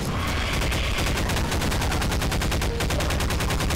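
Rapid, continuous gunfire in a video game, The Great Forever Tomorrow mod: loud, dense shots in a fast, even rhythm, with no gaps for the whole stretch.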